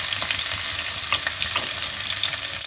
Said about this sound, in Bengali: এবার আদা রসুন আর লঙ্কা একটু ফ্রাই করে নেব।